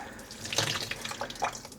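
Water is squeezed by hand out of wet, freshly dyed yarn, a soft close splashing and trickling with small drips, no voices.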